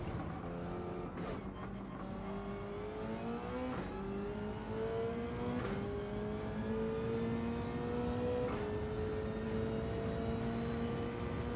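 Race car engine in Gran Turismo 7 holding a steady high drone, pitch climbing gradually through gears with brief shift dips, continuous and fairly loud with no talk.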